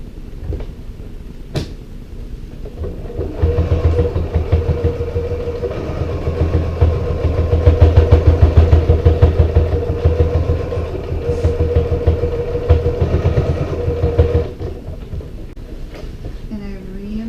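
A sewing machine stitches the bulky corner of an oversized zippered cosmetic bag, making a steady, close motor hum that runs for about eleven seconds and then stops.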